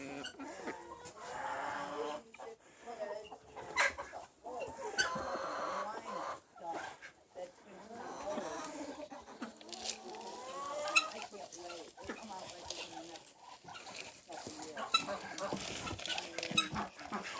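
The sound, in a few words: chickens clucking on a farm in the rain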